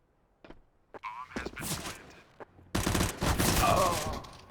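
Rapid bursts of rifle fire ring out during a CS:GO competitive match, with scattered single shots early, then a dense, sustained volley near the end, loud and close.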